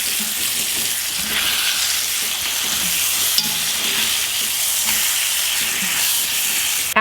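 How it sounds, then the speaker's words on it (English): Pork chops sizzle hard in a hot skillet while being flipped, making a loud, dense, steady hiss up close. Low scraping and turning noises run beneath it, with a sharp clack at the very end. "I'm gonna go ahead and flip these pork chops. They've been cooking about a minute."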